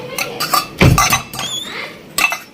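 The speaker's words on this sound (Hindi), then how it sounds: "बर्तन पड़े हैं सब जगह, तो बर्तन उठा के ले चल" Dishes and utensils scattered around a home kitchen are picked up, making several sharp metallic clinks and clatters close by, with one heavier clunk.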